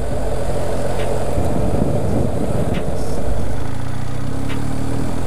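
A 2021 BMW R 1250 GS Adventure motorcycle on a road test ride gives a steady, continuous engine rumble mixed with wind roar, holding an even level with a slight swell midway and no talk.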